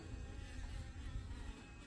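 A honeybee in a backyard hive during the autumn die-off gives off a steady, close, low buzzing drone that holds without a break for about two seconds.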